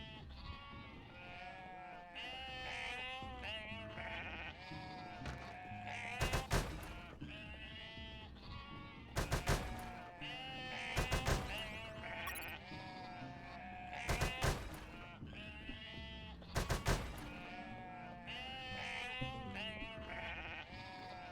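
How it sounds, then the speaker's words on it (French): Sheep in the video game Unmetal bleating over and over, with wavering cries across a busy game soundtrack, broken up by several sharp loud bursts at intervals. "Les moutons!"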